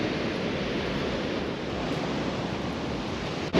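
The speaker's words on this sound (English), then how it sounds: "It really is a race against this tide that's coming in now." Sea waves rolling onto a UK beach as the tide comes in, a steady broad wash of surf with wind noise and no pauses or voices.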